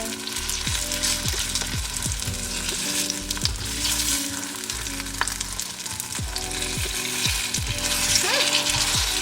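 Seitan steaks sizzle and fry steadily in a pan, with repeated scraping and clacking of a utensil as they are turned, close and loud with no talking.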